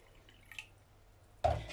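Water poured into a mug for tea comes in as a sudden, loud splashing gush near the end, after a quiet stretch with a faint drip.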